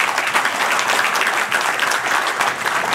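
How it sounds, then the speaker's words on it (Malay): Concert audience applauding for a Malaysian rock band, a dense continuous wash of clapping that stays loud and even throughout, with no talk over it. "Beri tepukan"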